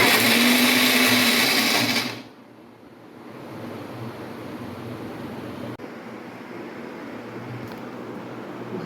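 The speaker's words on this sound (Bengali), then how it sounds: "কাঁচা লঙ্কা আর কাজু কিশমিশগুলো একসঙ্গে আমি এগুলো আমি মিক্স করে নেবো একসঙ্গে বেটে নেবো" A kitchen blender grinds green chillies, cashews and raisins, a loud, dense whirring roar for about two seconds before it cuts off abruptly, leaving a low background hum.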